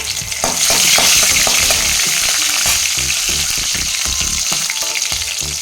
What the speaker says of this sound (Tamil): கடுகு பொரிஞ்சிச்சு. பச்சை மிளகா போட்டுக்கலாங்க.